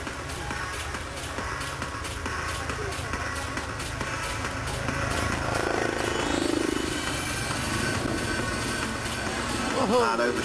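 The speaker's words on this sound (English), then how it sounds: "You actually see a helicopter perform a loop." A Westland Lynx helicopter performs a loop during an air show, its rotor chop beating steadily in the distance and swelling as it passes, while a commentator talks over it.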